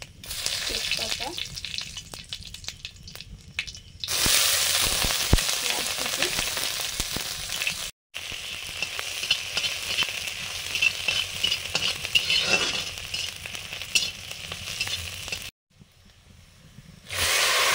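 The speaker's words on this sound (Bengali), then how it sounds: "মসুর ডালে ফোড়ন দেব, 5 ফোড়ন, শুকনো লঙ্কা, তেজপাতা" Whole five-spice seeds, dried red chili and bay leaf hit hot oil to temper masoor dal, giving loud bursts of crackling sizzle and hiss. Short pauses and quieter stretches break it up, and there is no talk.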